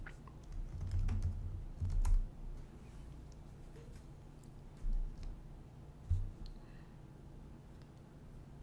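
Computer keyboard typing of a search query, heard as quick light key clicks in short bursts with a few heavier thumps and pauses, close and moderately quiet.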